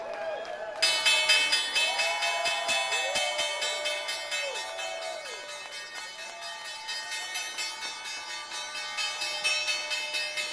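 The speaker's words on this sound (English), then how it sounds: "Time for the closing bell." A stock exchange closing bell on Wall Street rings continuously in rapid, steady strikes for about ten seconds, loud and close, with a crowd cheering and applauding underneath.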